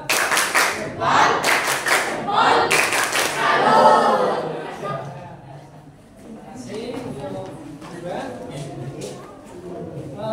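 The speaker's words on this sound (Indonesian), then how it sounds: "Berikan tepuk jempol" An audience in a teachers' training class bursts into several short rounds of rhythmic group clapping, loud and close, followed by a person speaking over a quieter room.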